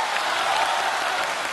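A studio audience at a Chinese comedy variety show applauds in a loud, even, sustained burst of many hands clapping together.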